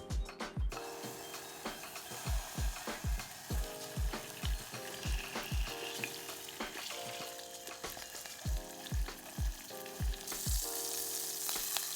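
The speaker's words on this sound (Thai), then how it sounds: "ตั้งหม้อใส่น้ำมันเล็กน้อย ทอดเต้าหู้จนเหลืองทั้งสองด้าน" Oil sizzles and crackles steadily as tofu fries golden in a pot with a little oil, with repeated low thumps and clinks of a utensil against the pan throughout.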